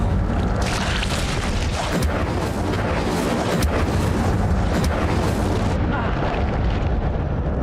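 The Incendio fire spell cast in the Hogwarts Legacy video game, a loud sustained roaring burst of flame and rumble filling the whole span, cutting off sharply near the end.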